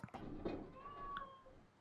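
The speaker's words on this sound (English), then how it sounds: "You can probably hear the cat." A house cat meows close by indoors, a short rising and falling call with a second brief cry near the end, heard over a low background hum.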